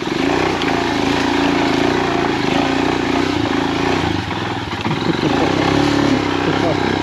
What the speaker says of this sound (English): it runs well though, got to say, engine feels good